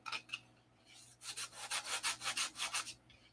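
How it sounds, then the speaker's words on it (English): Sandpaper rubs over a wooden aircraft wing in a hangar workshop. A few light strokes come first, then a steady run of about ten rhythmic back-and-forth scrapes, close and fairly quiet. "Keep sanding."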